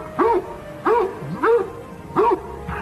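A dog in a dubbed 1993 thriller film scene gives four short, whining barks about half a second apart. They sound close and clear, with no talking over them.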